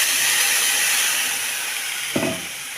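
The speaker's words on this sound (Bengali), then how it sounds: "আর তার মধ্যে ঢেলে দেবো হচ্ছে পরিমাণ মতো জল" Water poured into a hot wok holding potatoes, salt and turmeric for an egg and potato curry gives a steady steamy hiss throughout, with a brief low splash and burst of sizzle near the end.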